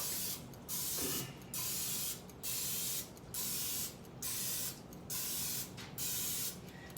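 Cooking spray hisses into an egg mold in eight short, evenly spaced bursts, each about half a second long, close and steady with brief pauses between.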